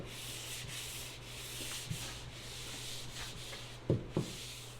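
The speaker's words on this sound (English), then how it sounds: "I'm just going to quickly go over it with a hand sander" A hand sander working over wood trim for a truck camper build, a steady close abrasive rub running throughout with a few brief sharper scrapes toward the end.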